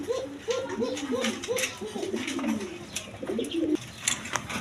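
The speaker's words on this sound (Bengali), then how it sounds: "এক পেয়ার বোম্বাই কবুতর আছে দেখেন ওই নটটা ডাকতেছে খুব ডাকাটাই করতেছে" A male Bombay pigeon coos in a steady run of repeated, rolling calls close by, with faint voices and other bird chirps in the background.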